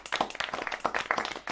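A small number of hands clapping close by in quick, uneven bursts, a sparse rapid patter rather than a crowd, lasting about a second and a half with no talk.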